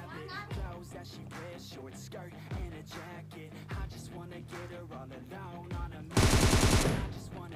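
SKS rifle fire from a hill in the video game PUBG Mobile sounds as spaced single shots under steady narration, followed by a loud, dense burst near the end.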